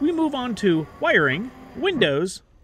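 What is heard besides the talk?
No everyday noises stand out.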